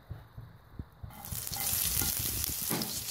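Onion dropped into hot oil for a homemade taco sauce: a second of soft pan taps, then a sudden loud, steady sizzle that keeps crackling up close.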